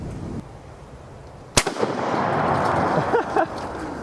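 An M1 Garand rifle fires Turkish 30-06 ammunition in one sharp, loud outdoor shot that echoes and rumbles away, followed by fainter clanks and pops.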